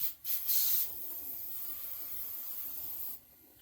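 Brake cleaner hisses from an aerosol can onto a Mercury 9.9 HP four-stroke outboard lower unit, a sharp burst up close followed by a steadier spray that cuts off near the end.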